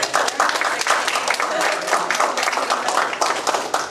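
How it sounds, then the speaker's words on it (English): Lunch guests at a Drexel presentation break into applause, a loud close burst of many hands clapping with a few voices mixed in, lasting several seconds. "got applause for the lunch?"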